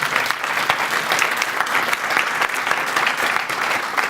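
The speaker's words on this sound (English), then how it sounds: "bring a round of applause to you guys" An audience at a startup weekend in the Lehigh Valley applauds, a loud, continuous round of clapping from a crowd in a room, steady throughout with no talking.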